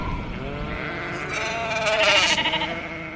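Goats bleat loudly and close as a sound effect, several overlapping wavering calls running throughout and swelling toward the end, with no talk.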